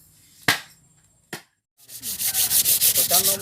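Two sharp clicks, then a steady rhythmic scraping as rust is sanded off a Yamaha YT115 clutch plate in quick even strokes, close up.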